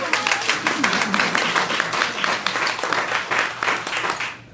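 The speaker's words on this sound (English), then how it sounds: "we can clap for" An audience claps at a fundraiser for the speaker's mother, Linda Coverdale, seated in the room. Dense, steady applause from many hands fills the room, continuing evenly and then cutting off abruptly at the end.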